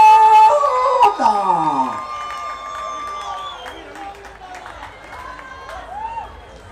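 A festival crowd at a Goan celebration in London whoops and cheers for a singer, with high gliding shouts over scattered clapping that starts loud and gradually thins out.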